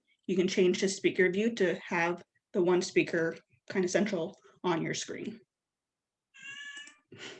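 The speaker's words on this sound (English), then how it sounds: "And that was my cat." A house cat gives a short meow near the end, following a stretch of someone speaking on a video call.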